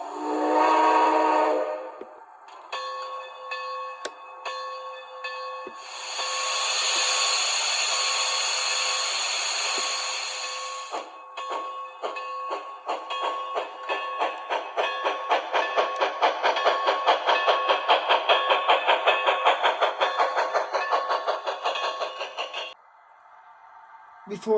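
HO scale Bachmann Spectrum 2-10-2 USRA Light Santa Fe model steam locomotive running along a layout track, a steady mechanical hum with rhythmic clicking that builds and fades, with brief tonal whistle-like sounds earlier on.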